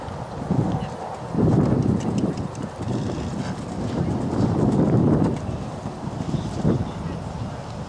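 A horse's hooves thud and clop in a steady rhythm during a dressage test at an eventing horse trial, set against wind rumble and outdoor ambience.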